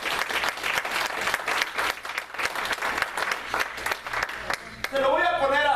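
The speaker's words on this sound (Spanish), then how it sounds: "Vamos a dar un aplauso al Señor, hermano." Church congregation applauding in a sustained, dense burst of clapping that fills the room, ending as a voice begins speaking.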